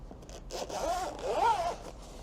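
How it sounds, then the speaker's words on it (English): A zipper slides along a high-quality EVA carrying case in two smooth, rasping pulls, close and fairly quiet, with no talking. "the zipper is very smooth"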